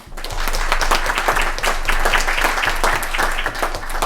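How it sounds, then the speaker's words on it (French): People at a public municipal council meeting applaud Evan Pierre, a double medallist, in loud, continuous, close clapping that keeps going through the whole stretch. "j'aimerais qu'on l'applaudisse, Evan"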